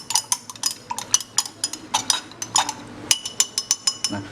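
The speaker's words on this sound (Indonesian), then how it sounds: "Kemudian kita aduk sampai rata." Stirring MS (Murashige and Skoog) culture medium in laboratory glassware, a quick series of sharp glass clinks from a stirring rod tapping the inside, close and fairly loud, with a short pause midway.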